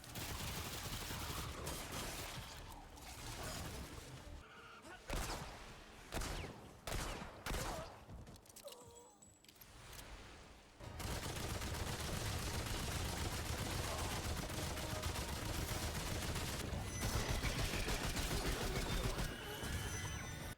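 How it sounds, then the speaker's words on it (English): Gunfire in a video game sequel to Remnant 1, dense bursts of rapid automatic shots, then spaced single heavy blasts, then a long sustained loud barrage. "their sound design for all the guns is fantastic."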